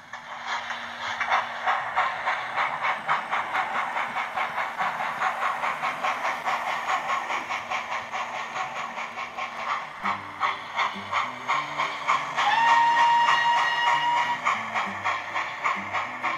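Hornby 9F 92212 model steam locomotive runs with onboard sound, giving a steady rhythmic chuffing with hiss and mechanical clatter, then a whistle toot near the end, close and continuous without talk.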